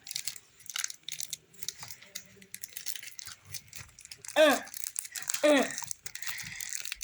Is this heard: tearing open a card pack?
yes